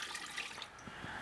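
A cup of water pours into an Instant Pot containing eggs on a trivet, making a brief, quiet splashing trickle with no talk.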